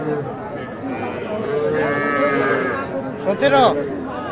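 Cattle and young calves at the Aftabganj livestock market moo loudly and close by, with one long low call and a sharper bellow near the end over a busy crowd murmur and people talking.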